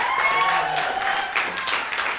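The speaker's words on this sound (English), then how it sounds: "Give him another round of applause." An audience applauds with a brief burst of scattered clapping lasting about two seconds, mixed with a few faint tonal sounds.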